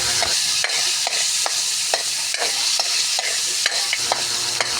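Vegetables for pinakbet sizzling in a pan while being stirred, with regular scraping strokes about twice a second over a constant frying hiss.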